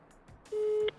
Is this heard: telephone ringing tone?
yes